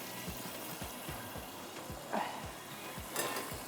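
Potatoes fry under a lid in a covered pot, giving a steady soft sizzle with a faint rhythmic ticking and a couple of brief clinks, fairly quiet and without any speech.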